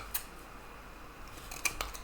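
Scissors cutting paper while making a vision board: a few faint, crisp snips spaced apart over a quiet background, with no talking.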